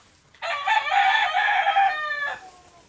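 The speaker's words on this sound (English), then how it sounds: "Now we got to wrangle chickens." An escaped backyard chicken gives a single loud, close, drawn-out crowing squawk of about two seconds that stands alone against a quiet background.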